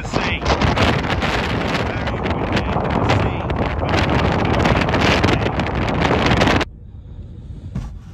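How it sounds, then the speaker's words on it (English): Strong wind at Strathy Point lighthouse on Scotland's north coast: loud, steady gusting buffets the microphone for several seconds, then cuts abruptly to a much quieter background. "I'm gonna go out and brave this wind."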